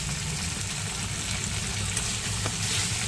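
Cumin paste, ginger paste and coriander powder sizzle steadily in a frying pan as they are stirred for a paneer and pointed gourd dish, a constant close frying hiss with no talking.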